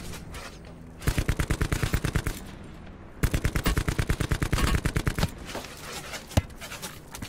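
Gunfire rings out in Call of Duty Black Ops 4 Blackout mode as two rapid automatic bursts of several seconds each. A lone sharp shot follows, all loud and close over quiet game ambience.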